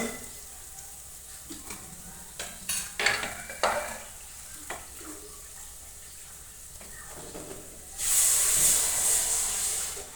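Boiled dal poured into hot oil tempering with red chilli, scattered stirring clatter first and then a loud bright sizzle that swells and holds near the end, with no talking.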